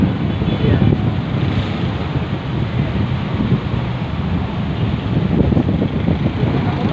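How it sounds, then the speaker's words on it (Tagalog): Strong wind gusting across Manila Baywalk beach, a steady loud broadband roar buffeting the microphone throughout, with faint surf mixed in and no voices. "malakas yung hangin. Hindi ko alam kung naririnig nyo yung hangin."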